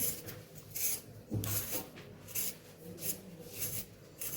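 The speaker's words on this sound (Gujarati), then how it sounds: "તો બટેકાને આપણે છોલી લેશું" Potatoes being peeled in a home kitchen while making cabbage bhajiya, a series of short close scraping and rasping strokes at an irregular rhythm, fairly quiet, with no voices.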